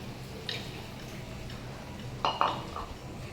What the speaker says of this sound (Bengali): এখান থেকে এভাবে করে আমি জল নিয়ে তারপর ঝোলে দিই